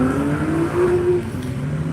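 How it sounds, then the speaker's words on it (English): A Goodyear Camaro race car pulls away at a Nelson Ledges track lap event, its engine note droning and rising steadily through the gears, moderately close and unbroken by voices. "Got the Goodyear Camaro taking off."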